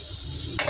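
Chopsuey with garlic and onions stirred in a pan over high heat, a steady close sizzle with a spatula scrape near the end of a short moment.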